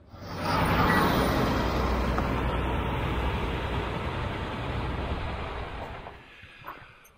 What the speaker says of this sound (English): that was probably the sixth logging truck we've seen come out of here in about the last half hour